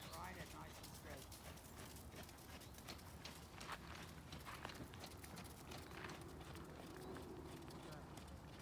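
Hooves of a ridden horse thud steadily on the ground through a riding lesson, a continuous rhythmic clatter under an instructor's voice.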